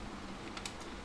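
A few quick keystrokes on a computer keyboard while entering a Windows command, soft light taps in a brief burst over a faint background hum.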